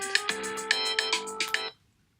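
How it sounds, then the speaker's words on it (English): A phone alarm rings in a rapid, bright electronic melody of repeated tones lasting under two seconds, close and clear, then cuts off abruptly to silence. "Every morning the alarm goes off and I can't figure out how to turn it off"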